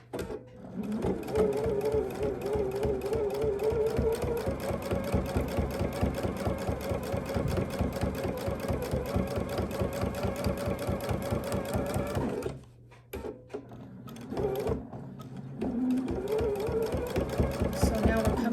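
Sewing machine stitching fabric for bias binding, running in a fast, even, rattling stitch for long stretches, pausing briefly near the end and then starting again, close and loud, with a voice faintly underneath.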